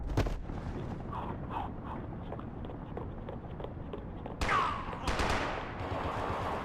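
Gunfire in the video game Max Payne 3 crackles in quick bursts of shots over a low ambient rumble, with a louder, denser volley near the end.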